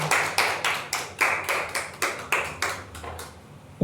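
A church congregation in worship claps in slow unison, about a dozen strong, evenly spaced beats that fade toward the end.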